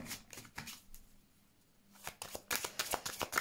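Tarot cards are shuffled close up for a reading: a fast riffle of card flicks, a short lull, then a denser run of crisp slapping shuffles, with no talking.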